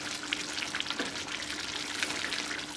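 Curry leaves sizzling as they drop into bubbling bitter gourd theeyal, a Kerala curry, giving a steady close crackle and hiss with small pops throughout.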